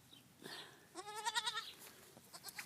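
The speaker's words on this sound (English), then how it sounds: "Little goats for Calf Club." Young goats in a spring garden bleat in a short series of wavering, quavering calls, close by and fairly faint.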